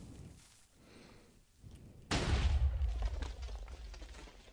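A TNT cannon in Minecraft detonates in midair with a sudden loud blast that rolls into a long, rumbling roar, following several seconds of quieter low background.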